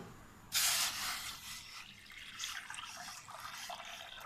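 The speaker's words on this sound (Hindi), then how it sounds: "अब हम इसमें डाल देंगे 2 गिलास पानी" Two glasses of water poured into a wok sitting on a stove, a sudden close splash that settles into a steady gushing pour, then softer trickling as it fills.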